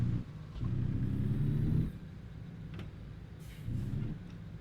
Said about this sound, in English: this truck does get up to speed pretty quickly